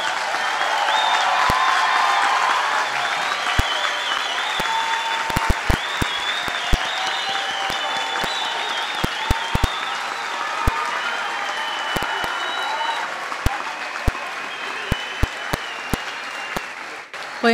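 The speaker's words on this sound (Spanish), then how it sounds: "pido a los asistentes un fuerte aplauso para todos los graduados" An audience at a university graduation ceremony applauds the graduates, dense sustained clapping filling a large hall and slowly thinning toward a few scattered claps at the end.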